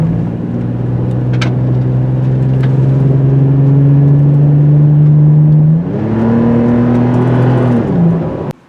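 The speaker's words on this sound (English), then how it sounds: "The exhaust sound of the TRD exhaust it sounds like a sick UPS truck." A 2023 Toyota 4Runner TRD with a TRD exhaust drones steadily at cruising speed, then shifts up to a higher pitch near the end. The exhaust is loud, close and continuous, with no talking.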